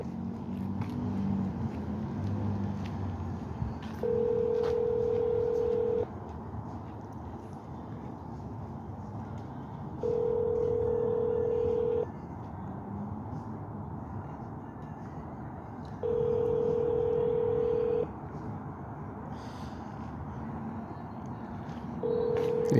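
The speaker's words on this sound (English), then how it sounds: "Yes, that phone just rings." A phone line rings out unanswered at an unstaffed desk, a steady electronic ringback tone repeating four times in two-second bursts with pauses between, clear over faint background hiss.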